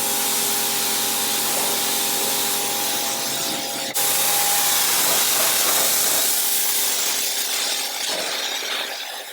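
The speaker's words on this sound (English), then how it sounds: "with a high pressure cleaner and a telescopic arm we were able to get the walls quite clean" Steady hissing spray of a high-pressure cleaner with a telescopic arm washing algae off backyard walls, continuous and fairly loud, with a faint mechanical drone underneath and no talking.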